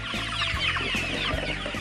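Chickens clucking on a natural free-range egg farm, a dense, continuous chorus of many hens cackling and calling close by, with no talk.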